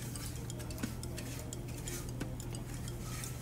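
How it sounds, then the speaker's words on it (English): Sugar stirred in a pan for caramel sauce gives faint, steady scraping with two light ticks of the spoon against the pan over a constant low hum. "You want to be stirring to help dissolve the sugar."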